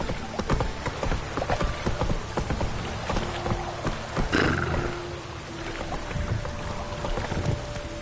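A horse gallops in The Witcher 3, a steady run of clip-clop hoofbeats over ambient game music and effects, loud and close throughout.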